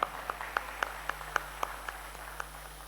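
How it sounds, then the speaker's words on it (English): Sparse, regular claps ring out at the Indplas 2025 launch event, a handful of distinct hand strikes in a steady rhythm over a low electrical hum, with no talking. "Can we have a big round of applause once again?"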